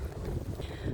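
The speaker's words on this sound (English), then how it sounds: "I said it's really windy out" Strong outdoor wind buffets the microphone with a continuous low roar and rumble, loud and close, with no voices.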